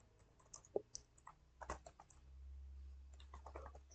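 Keys clicking on a computer keyboard as code is typed, an uneven run of quiet close taps with short pauses and a soft low hum underneath.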